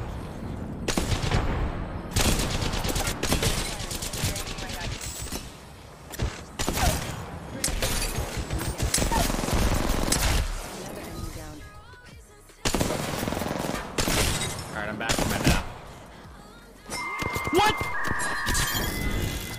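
Rapid automatic gunfire in a battle royale shooter video game, dense bursts of shots running almost nonstop and loud, with players talking over the fire.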